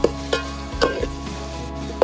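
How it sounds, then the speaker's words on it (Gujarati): Corn kernels frying in oil for a Gujarati gravy curry, a soft sizzle with a few sharp scrapes or taps of a spoon spaced through the short stretch. "ત્યારબાદ આપણે દાણા નાખી દેવાના છે તેલમાં, જેથી કરીને આપણે ફ્રાય થઈ જાય"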